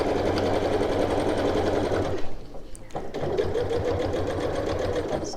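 A sewing machine stitches a half-inch seam through a bulky zippered reversible tote bag in a steady fast whirring run, briefly pausing and restarting midway, close and loud without any talking.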